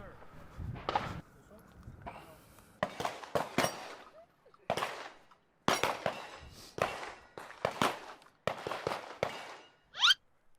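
Glock pistol fired at a shooting range: about ten sharp, loud reports in an irregular sequence, some in quick pairs, with brief gaps and faint handling noise between shots.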